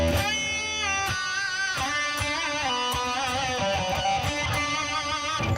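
A guitar amplifier miked with an SM57 on its speaker cabinet plays sustained, bright distorted tones that shift in pitch over a few seconds, close and steady, with no talking.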